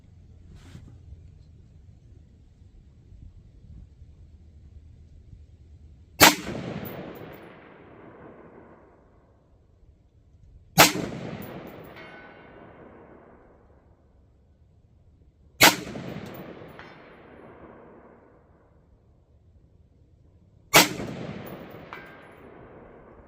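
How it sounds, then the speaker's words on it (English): Four 5.56 rifle shots fired at a 300 yard target, each a sharp loud crack with a ringing tail, spaced roughly five seconds apart in an otherwise quiet outdoor setting. "So we'll get set up here and take a few shots at it"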